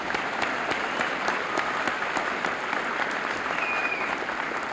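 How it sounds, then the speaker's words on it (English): Students at a 1993 high school senior assembly receive a round of applause from the crowd, a continuous, moderately loud patter of many hands with scattered sharper claps standing out, no talking over it. "let's give these students a round of applause"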